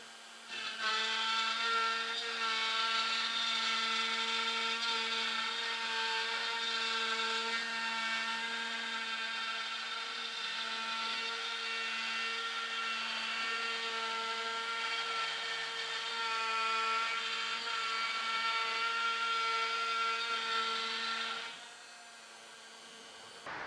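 CNC router spindle cutting plywood for push pad handles, a steady high-pitched whining hum that holds for about twenty seconds with slight variations, close and alone, then winds down near the end.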